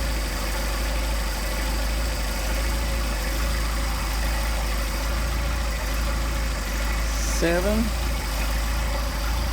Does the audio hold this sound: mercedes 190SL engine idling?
yes